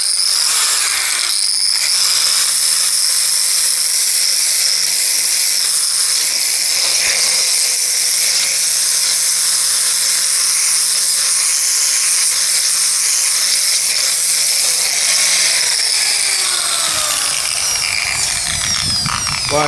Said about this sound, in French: Donc je vais utiliser des disques abrasifs comme ça sera plus efficace.